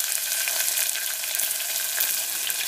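Thinly sliced onions frying in oil in a pan for a potato curry: a continuous bright crackling sizzle at moderate level, with no talk.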